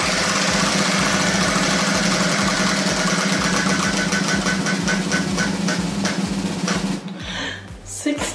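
A game wheel spun by hand, a rapid run of close, loud clicks that gradually slows before coming to a stop near the end.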